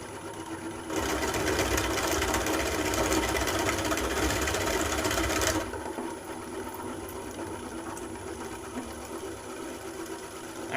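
A hollowing bit cuts crunchy wood spinning on a lathe, a loud rough grinding buzz that runs for several seconds, then drops to a quieter steady machine hum as the bit backs out.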